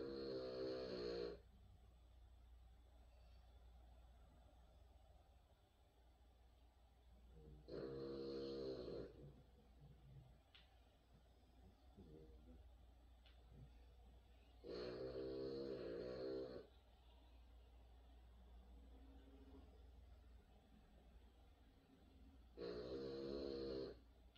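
Four heavy snoring breaths from a sleeping dog come at a slow, even rhythm. Each one is loud and rasping, with quiet pauses and a faint room hum between them.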